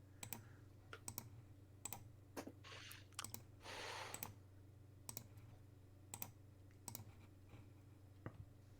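A computer keyboard is typed on in scattered, isolated clicks and short bursts spread over several seconds. The sound is quiet and close, over a low steady hum.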